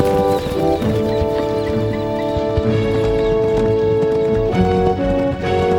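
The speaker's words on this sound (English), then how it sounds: "On the first day, William rode his father's prized horse, Gig, against a horse called Jerry" A horse gallops in a three-mile race with a rapid, close clip-clop of hoofbeats, set against a steady tonal backing that sounds like music.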